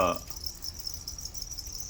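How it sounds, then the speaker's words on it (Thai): Steady high-pitched chirping of breeding cricket stock kept in a plastic bin, continuous and fairly faint, with a brief soft noise at the start and no talking. "อันนี้คือ จิ้งหรีดพ่อพันธุ์แม่พันธุ์นะครับ"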